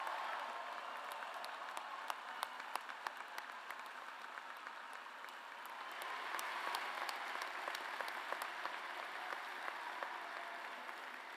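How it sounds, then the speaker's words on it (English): Steady applause from a large crowd at a university bachelor's graduation ceremony, many hands clapping continuously, swelling a little louder partway through and carrying on to the end. "let's give them a round of applause while we wait"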